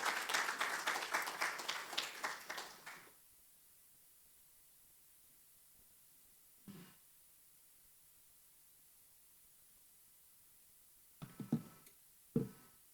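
Applause from an audience at a corporate event hall fills the opening three seconds as a dense, fairly faint burst, then fades into near silence broken by a few brief knocks.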